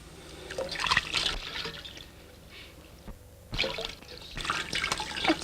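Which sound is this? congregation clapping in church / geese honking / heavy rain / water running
water running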